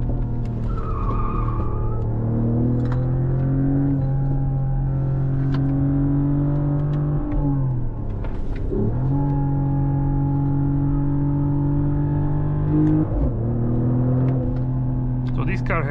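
A 2025 Mercedes GLE 53 AMG hybrid coupe engine accelerating from inside the cabin, loud steady revs climbing through gear changes with brief drops between shifts, and a driver talking over it.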